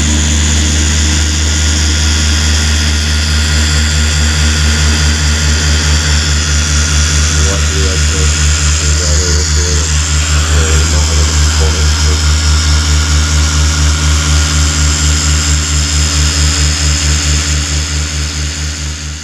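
Machine polisher cutting and polishing the paintwork of a black Honda Civic FN2 Type R, a loud, steady motor drone with a constant pulsing hum that runs the whole time without a break.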